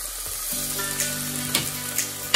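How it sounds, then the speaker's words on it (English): Split green chilies hit a pan of mushy cooked tomatoes for a sardine curry and sizzle steadily up close, with a few stirring clinks over the frying hiss. "This would be a nice time to add the green chilies."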